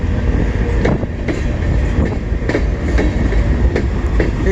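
CN M382 northbound freight train with several locomotives rolling past close by, a loud steady rumble with rhythmic wheel clicks over rail joints.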